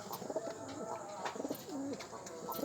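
Giribaz pigeons coo softly and repeatedly close by, low throaty rolling calls layered over quiet background noise, with no talking.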